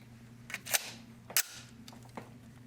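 Pistol shots from a SIG P226 or Beretta M9 at a shooting range: two sharp cracks in quick succession, then a single shot and fainter pops, with a steady low hum underneath.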